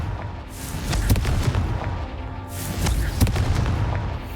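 A Confringo fire spell in the video game Hogwarts Legacy, two booming blasts about two seconds apart, each a sharp crack with a rushing burst behind it, close and loud.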